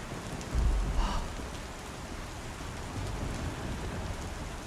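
Steady rain-like hiss from a video game alarm effect in Star Citizen PTU 4.2 testing, a continuous soft wash of noise with a brief low thump near the start, playing alone at moderate level.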